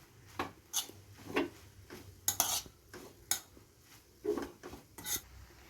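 A spoon scrapes and clinks against a pot as grated coconut is stirred into upsaru, a Kannada drumstick-leaf dish, giving a series of sharp, irregular metallic knocks and scrapes with short gaps between them and no talking.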